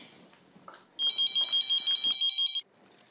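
A household telephone in a family sitcom home rings with a steady electronic trill that lasts about a second and a half. It is loud and close and stands out against a quiet room.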